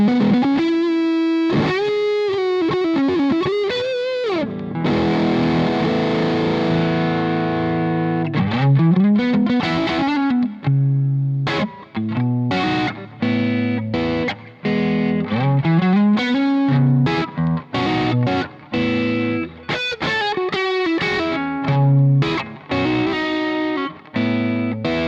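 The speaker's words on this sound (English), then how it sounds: "Really love those rolled back sounds" A Red Gizmo custom fuzz pedal with its controls rolled back drives a woolly, distorted electric guitar through a long played passage of sustained bends and choppy repeated riffs, loud and steady with no talking.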